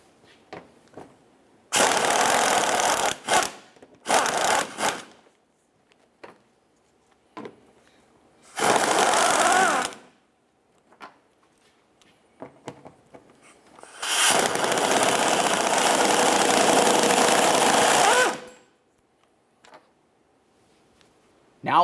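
Bolts being worked loose on a 2001-2005 Ford Explorer Sport Trac during thermostat housing replacement, a few loud bursts of ratcheting or impact tool noise separated by quiet gaps and small clicks.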